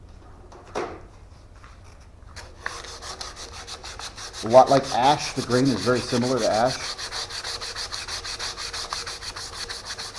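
Hand sanding on open-grained black locust wood at 180 grit in quick back-and-forth strokes, a raspy rubbing close up, starting midway and running several seconds while someone speaks.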